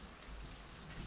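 Rain falling steadily, a close, even wash of hissing drops with no pauses or voices over the brief stretch.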